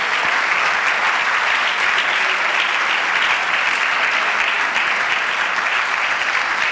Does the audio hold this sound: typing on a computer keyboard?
no